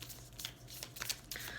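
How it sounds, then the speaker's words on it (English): An Angels and Ancestors oracle card deck being shuffled by hand, a close, quiet run of soft riffling and flicking bursts over a low steady room hum. "I'm shuffling now the Angels and Ancestors Oracle deck"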